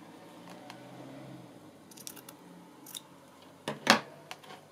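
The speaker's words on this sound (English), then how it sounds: "Oh, wrong scissors. Felt differently when I was cutting." A few crisp snips of scissors cutting through fabric, close by, ending in one louder cut, with quiet room noise between.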